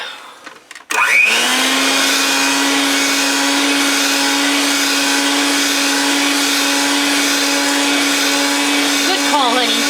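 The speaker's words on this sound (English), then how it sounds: "We can actually put the beaters back on, because I just had them in that dish with the Buttermilk." An electric hand mixer starts up after a short clatter and runs with a steady, loud whirring hum, its beaters working through a cornmeal spoon bread batter made with buttermilk.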